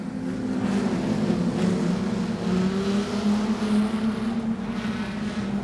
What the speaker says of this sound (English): Trap, Barbara, carrying some speed out of the corner.